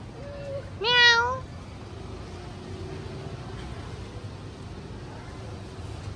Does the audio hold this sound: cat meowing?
yes